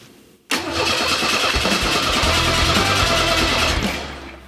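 A Ford Mustang engine, fired by a jumper wire run to the starter relay, cranks and catches abruptly, then settles into a loud, steady running roar close by for several seconds before easing slightly.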